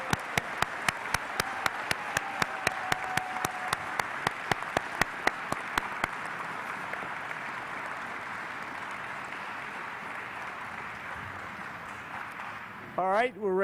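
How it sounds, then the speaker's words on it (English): A courtroom crowd at a naturalization ceremony applauds new citizens. A run of sharp, evenly spaced claps rings out over a steady crowd wash that continues and thins, and a voice speaks at the very end. "Big round of applause and welcome for our new citizens."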